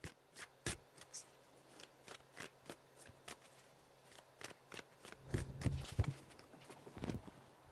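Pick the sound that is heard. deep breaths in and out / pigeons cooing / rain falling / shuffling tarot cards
shuffling tarot cards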